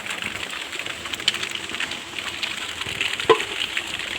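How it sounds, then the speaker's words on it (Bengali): Rain falling around an outdoor cooking fire beneath an umbrella, a steady patter and crackle with scattered louder drops and one sharper tap near the end, without speech. "বৃষ্টি আইসা পড়ছে রান্না করতে করতে"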